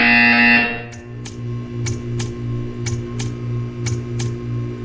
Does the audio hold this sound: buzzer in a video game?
yes